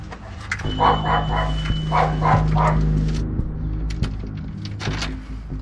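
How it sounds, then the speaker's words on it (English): A dog barks a few times at a distance, muffled under a steady low engine-like rumble, in an outdoor setting. "Is that a dog?"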